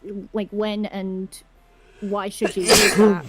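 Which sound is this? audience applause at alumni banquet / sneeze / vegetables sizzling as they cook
sneeze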